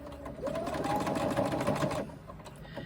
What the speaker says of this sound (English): I flip this around and finish the top stitching on this side.